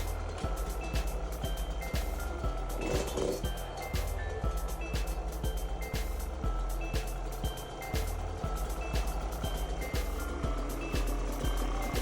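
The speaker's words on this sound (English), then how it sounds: "I popped the tank on and started the bike" A Yamaha YZ125X dirt bike engine idles steadily nearby with a constant drone, while a sharp electronic beep repeats at a regular rhythm over it throughout.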